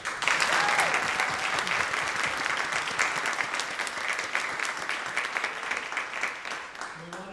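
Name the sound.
audience applause for the Upper School Chamber Orchestra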